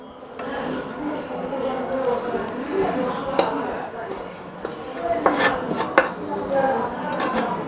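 Golden roasted wheat flour for wheat puttu is scraped and tipped from a hot kadai onto a plate, giving a steady dry rustle with sharper metallic scrapes and taps toward the end.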